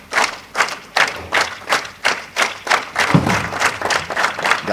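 A bowling-tournament audience at the QubicaAMF Masters claps in steady, rhythmic unison, about two beats per second, loud and close with a faint crowd murmur underneath.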